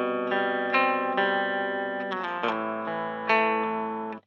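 An electric guitar, a Chapman ML3 Modern with EMG HET SET pickups, plays a clean, shimmering tone with a chorus-like sheen, letting chords and single notes ring out and decay.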